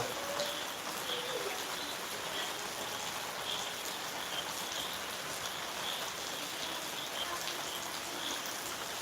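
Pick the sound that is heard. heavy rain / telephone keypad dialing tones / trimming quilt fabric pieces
heavy rain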